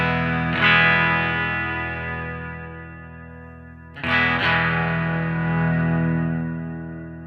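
A guitar chord strummed through a Vahlbruch Pipeline reverb pedal rings out with a long, shimmering wash that slowly decays, then a second strum follows near the middle and sustains to the end, with no talking.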